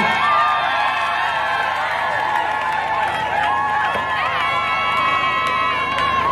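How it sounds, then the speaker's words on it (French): Crowd at a church assembly cheering and whooping with cries of joy as mothers advance, loud and continuous throughout, with a sustained, voice-like choral texture underneath. "Encourageant les mamans avec nos cris de joie, pendant que nos mamans avancent."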